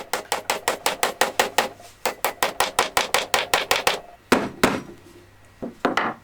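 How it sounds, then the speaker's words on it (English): A rapid, even run of sharp hammer taps on wooden dowels, about twenty in quick succession, then a pause and a few slower, scattered knocks. Close and crisp, no voices. "with a few gentle taps of the hammer made sure they were a nice tight fit"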